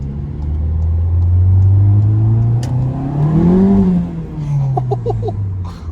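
A VW Golf 7 GTI accelerates hard, heard from inside the car as a loud, rising engine drone and rumble that climbs in pitch, with a few light ticks near the end.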